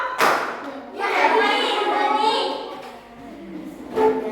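Children chanting together in a concentration clapping game, with a few sharp claps at the start and near the end over steady, fairly close group voices.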